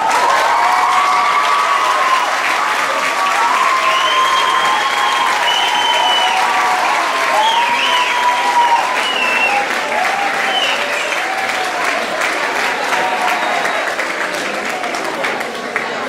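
Large circus audience breaking into sustained applause at the end of a show, a steady, dense roar of clapping mixed with crowd noise and a few cheers, with faint voices and whistles over it, holding loud throughout.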